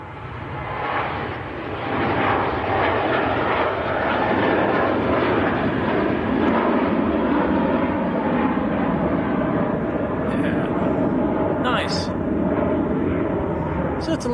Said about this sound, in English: Certainly sounds to a pack a punch, them A321s, don't they? A lot noisier than the Neo.